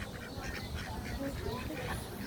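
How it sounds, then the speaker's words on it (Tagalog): A duck quacks at an animal park, with short calls scattered under people talking nearby, in a busy outdoor setting. "Duck. Duck. What the duck say? Quack, quack, quack."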